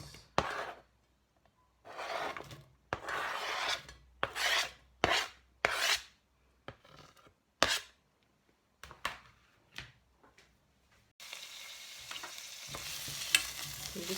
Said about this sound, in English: You just want to stir the onions around slightly and cook them for a minute or two until they start to go translucent.